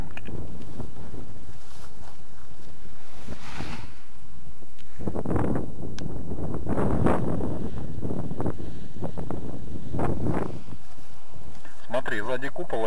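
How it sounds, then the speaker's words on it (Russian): Paraglider canopy flapping and rustling in gusty wind during ground handling practice, broadband bursts rising and falling with the gusts under steady wind noise, with a voice talking through parts of it. "Крыло полоскаем."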